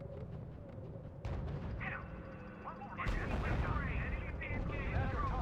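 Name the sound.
gunfire in the video game R.U.S.E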